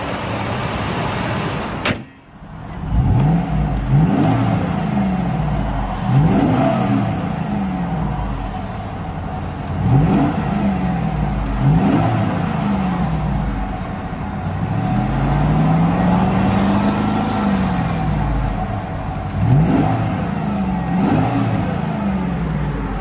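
A 2004 Cadillac Escalade's engine turns over after a sharp start-up burst, then settles into a steady, close idle with several rising and falling revs, one long sweeping rev near the end.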